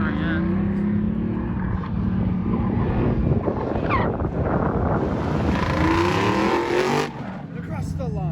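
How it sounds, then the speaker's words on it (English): A Chevrolet Camaro roars down the drag strip at Las Vegas Speedway during an LS Fest event. The loud, sustained engine blast rises as the car passes, with wind buffeting the microphone and spectators talking nearby. "This Camaro's flying."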